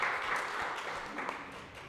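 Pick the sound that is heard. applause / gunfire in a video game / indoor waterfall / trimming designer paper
applause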